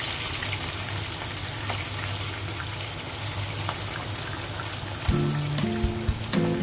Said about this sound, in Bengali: সমস্ত কাঁটাগুলো আমি লাল লাল করে ভেজে নেব